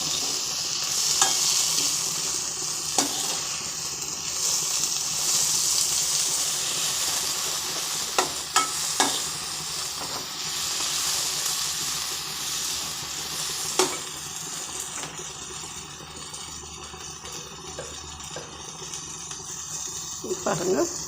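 Cut tomato and chili powder frying in a pan, giving a continuous loud sizzle and hiss. Scattered scrapes and clinks of stirring run throughout, and a person talks over the cooking.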